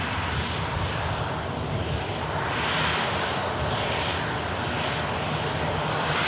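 An airliner at Bristol airport roars past in a broad, steady engine wash that swells gently and stays loud throughout, with no voices.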